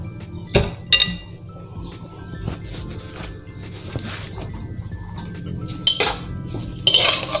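Food being stirred in a cooking pot while preparing quick diet meals, with scattered clinks and scrapes of a utensil against cookware, a few sharper knocks standing out over a low steady kitchen background, close by, with no talking.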